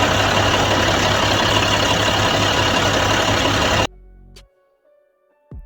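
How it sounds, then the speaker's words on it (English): A dump truck engine idles loudly at close range with a steady low rumble for several seconds, then cuts off suddenly into near silence broken by a couple of faint clicks. "especially when I'm standing right here beside this dump truck"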